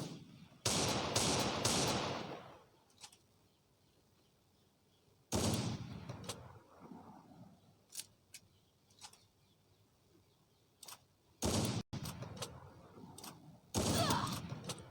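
Video game gunfire in a lone wolf mode match cracks out in several sharp bursts and single shots, separated by quieter stretches with faint ticks and scattered short pops.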